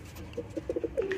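Light-weight Punjabi pigeons coo softly nearby, giving a short run of several low, rounded coos in quick succession over faint background hiss.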